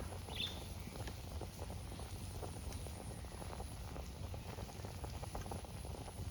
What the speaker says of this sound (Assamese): পূৰা উতলন আহি গ'ল